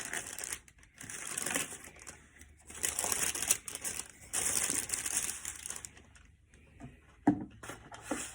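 Sterile dressing supply packages are peeled open with clean gloves, producing several bursts of crinkly, papery rustling and tearing, close and moderately soft, separated by short pauses.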